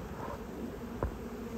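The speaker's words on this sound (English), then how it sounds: "The bees are so happy right now." Honey bees buzz among black-eyed Susans and other purple, white and orange flowers, a close, continuous droning hum with one bee briefly swelling louder as it passes near.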